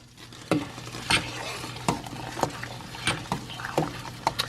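Acini di pepe pasta is stirred in a pot, with a spoon scraping and knocking about seven times at an uneven pace over a low background simmer, close by and without speech.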